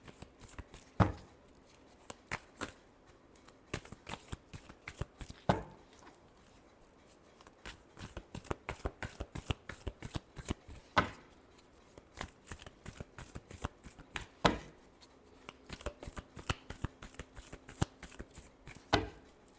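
A deck of tarot cards is shuffled by hand: rapid, crisp riffling and flicking taps repeat steadily for about twenty seconds, close but soft, with no talking.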